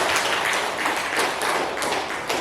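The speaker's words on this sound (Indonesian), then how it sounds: "kita tepuk tangan untuk kami dulu" Classroom of children clapping together at a school lesson, a dense, steady patter of many small hands lasting a couple of seconds without a break, fairly close and moderately loud, with no talking over it.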